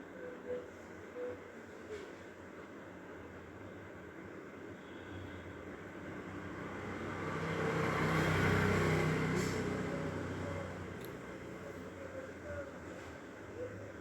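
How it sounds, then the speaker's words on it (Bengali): Cars passing along a roadside beside a home kitchen, one vehicle swelling louder as it goes by mid-way and then fading, over a constant low traffic hum. "রাস্তার পাশ দিয়ে গাড়ি যাচ্ছে, তাই জন্য গাড়ির আওয়াজগুলো"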